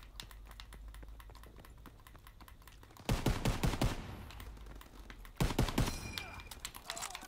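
Rapid bursts of gunfire from a WW2 shooter in Gun Game mode, two loud clusters of quick shots standing out over a steady background of game noise, with a faint voice now and then.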